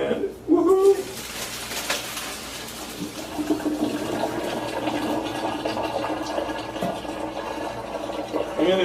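Boiling water poured off a pot of cabbage into a drain, a steady rushing splash that runs on for several seconds after a brief clatter, with a voice speaking briefly at the start.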